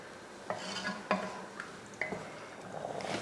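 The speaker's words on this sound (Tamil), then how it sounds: "நல்லா கிண்டி விட்டுட்டு ஒரு கொதி வரட்டும்" A spoon scrapes and knocks against a pot of cooking tomato rice in a few distinct taps, with soft stirring and light bubbling in between, close and fairly quiet.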